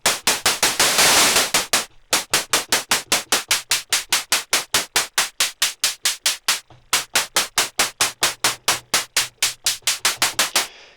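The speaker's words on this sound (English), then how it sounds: "they've used some kind of pink noise or anything rather than actual white noise" Rapid, evenly spaced bursts of noise pulse like a synthesized drum hit, loud and repetitive, with two short pauses breaking the pattern.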